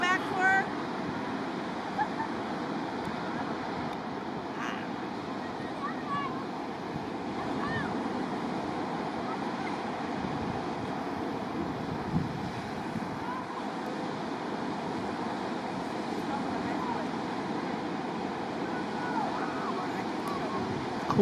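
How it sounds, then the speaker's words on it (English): Ocean waves roll onto a beach in a steady, continuous wash of surf with wind noise over the microphone and no break through the whole stretch. "Cool to see the waves coming in."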